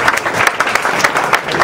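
Lively audience applause at a stand-up comedy event, loud close clapping with distinct individual claps pulsing irregularly through a short burst.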